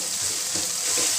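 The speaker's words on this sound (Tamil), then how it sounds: "வதங்கிக்கிட்டே இருக்கட்டும். நல்லா விடாமல் கலவிக்கிட்டே இருங்க" Ginger garlic paste frying in a pan, a dense, continuous hiss of sizzling oil heard up close, with a faint stirring scrape near the end, brief and without talk.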